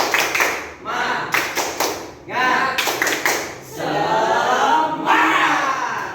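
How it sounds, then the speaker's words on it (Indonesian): Students at an Islamic education teaching practice session doing a rhythmic 'tepuk semangat' group clap, sharp synchronized bursts separated by pauses, ending in a shouted chant and longer clapping. "Untuk tepuk semangat."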